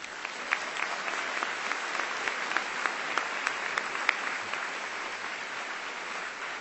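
A graduation ceremony audience applauds in a steady, dense clatter of many hands, even and sustained throughout with a few sharper claps standing out.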